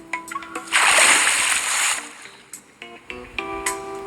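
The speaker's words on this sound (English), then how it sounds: "He enters it and sinks under the water." A big splash into bathtub water in a video game surges up and fades, followed by soft sloshing and a few short musical tones.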